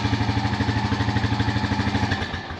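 A Honda ATV engine running on a new battery, a steady close idle with a fast even pulsing beat that tapers off at the end.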